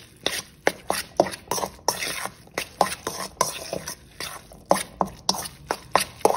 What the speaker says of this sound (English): But just want to stir it up to where it's all mixed.